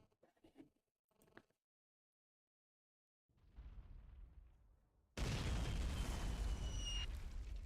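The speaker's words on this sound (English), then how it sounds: "Might as well call in another artillery strike." Artillery strike in a WW1 video game set on the Italian front: after brief quiet, a rumbling explosion builds and then a loud, sustained roaring blast fills the scene, with no speech.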